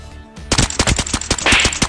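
Gunfire in the video game Arena Breakout: after a brief quiet moment, a loud, close burst of rapid automatic shots rattles off in a steady stream until the end.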